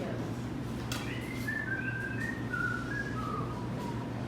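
A person whistles a faint, wandering melody of a few short notes against a low steady background hum.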